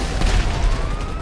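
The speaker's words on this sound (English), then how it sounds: "Fuck, some explosions." Explosions and gunfire in GTA Online sound as a dense burst of booming blasts and crackling shots, loud and continuous over the short span, with a faint siren-like tone behind.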